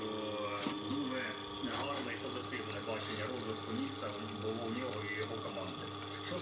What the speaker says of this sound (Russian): выливается вода